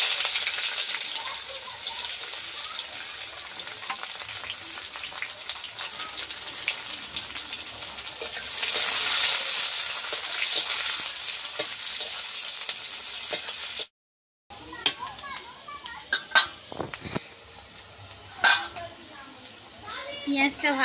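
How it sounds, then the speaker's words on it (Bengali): Onions sizzle steadily in a pan with bay leaf, dried chilli, cardamom, cinnamon and cloves for a desi chicken curry, a continuous close frying hiss broken by a short gap, then stirring and clinks over quieter sizzling. "পেঁয়াজটা ভাজা হয়ে গেছে"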